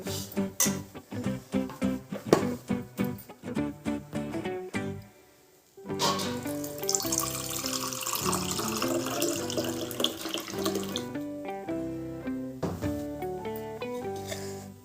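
A cup of water splashes into oats frying in oil in a pan, a running pour heard under prominent background music.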